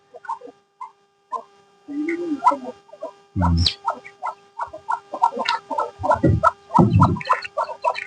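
Two farm ducks, a male and a female, quack in short bursts of repeated calls with a few louder, harsh outbursts. Quiet chirping sounds from other birds can be heard in the background.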